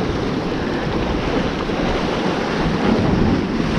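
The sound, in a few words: wind blowing on a rocky seashore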